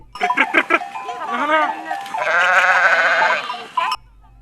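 Yellow goats of nomadic Yörük herders migrating from coastal winter grounds toward summer pastures bleat in several wavering cries over other voices and a faint tinkling of bells, near and fairly loud.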